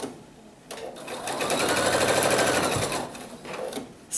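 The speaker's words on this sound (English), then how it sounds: "You see how I'm just chain stitching them all together." A sewing machine chain stitching quilt block pieces together runs in a steady, close, high-speed whir for about two seconds, with brief starts and stops around it.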